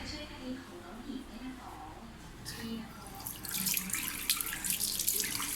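Tap water runs into a sink as eyebrow dye is rinsed off, starting soft and swelling into a louder, splashing flow toward the end, with someone speaking under the water.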